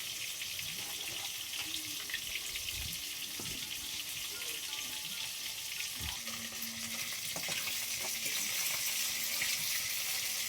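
Fish sizzles steadily in a hot pan with oil, a dense continuous crackle carrying through, with a few faint clinks of utensils near the middle and no talk.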